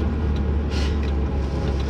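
A manual Mitsubishi Evo 8 being driven, its engine a steady, loud low rumble heard from inside the car throughout, with no voices.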